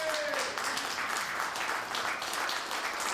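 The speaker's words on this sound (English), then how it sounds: "Keep the applause coming." A luncheon audience at an ASMAC event applauds Jerry Sharrell as he is introduced, sustained room-filling clapping from many hands, with a brief voice at the start.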